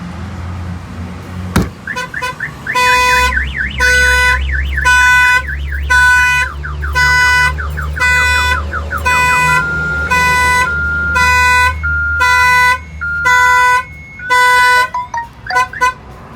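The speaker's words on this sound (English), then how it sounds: "the alarm is going off" A loud Freightliner truck alarm blares nearby after a sharp bang, cycling through repeated pulsing electronic tones and warbling siren patterns that stop abruptly near the end.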